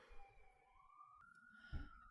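An emergency vehicle siren passes by, faint and distant, a wailing tone gliding upward then holding a high note, with a brief low thump near the end.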